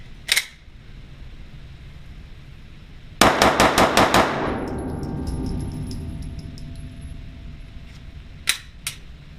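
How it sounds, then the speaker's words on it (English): A Glock 19 pistol fires six loud, sharp shots in a rapid burst, each crack ringing out and decaying, with a single shot just before and a pair just after. "what I'm going to do now is just fire 6 shots as fast as I can"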